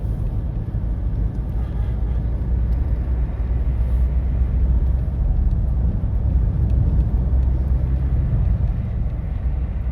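A Mahindra Scorpio N drives a mountain road in Arunachal Pradesh, its steady low engine and road rumble filling the cabin without pause.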